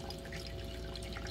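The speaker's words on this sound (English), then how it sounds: "I like the water sound" A humidifier gives soft trickling and dripping water sounds, steady and close, with a faint hum underneath and no voices.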